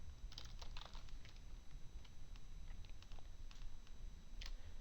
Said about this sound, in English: If I would just type API type